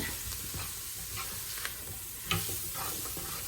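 Flour cooking in a pot for broccoli chicken cheese soup, with a soft steady sizzle and a few sharper scrapes and taps as a utensil stirs it, no talking.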